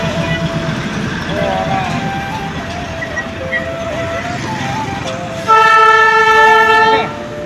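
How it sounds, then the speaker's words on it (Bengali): The Darjeeling toy train rumbles past close by and sounds a loud, sustained horn near the end. Voices can be heard underneath. "আমাদের সামনে দিয়ে বেরিয়ে গেল দার্জিলিংয়ের বিখ্যাত টয় ট্রেন।"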